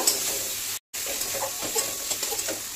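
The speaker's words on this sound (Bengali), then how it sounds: "এবারে টমেটো আর কাঁচা লঙ্কাটা দিয়ে দিব, ভালো করে কষিয়ে নিব মশলাটা।" Spice masala with tomato and green chilli being fried and stirred in a pan for egg curry, giving a steady close sizzle with scraping stirs, broken by a brief silent gap.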